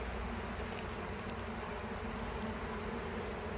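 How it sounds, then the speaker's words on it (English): Honey bees buzz in a constant, close drone while a bee package is installed into a Warre hive, loud and even throughout with no talking. "Let's make sure we got all our bees out of the way."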